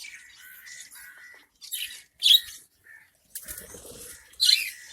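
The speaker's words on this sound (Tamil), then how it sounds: "பேர்ட்ஸ் எல்லாம் சாஃப்ட் ஃபுட்டை பார்த்த உடனே எல்லாம் அது கத்தி கிட்ட வர ஆரம்பிச்சிருச்சுங்க." Pet birds call in short, sharp chirps and squawks as soft breeding food arrives, with brief wing flutters between the bursts, close and lively.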